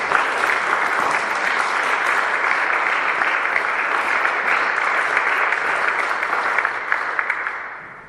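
Audience applause welcoming a speaker to a stage, a dense, sustained clapping from a full room that holds steady for several seconds before tapering off at the end.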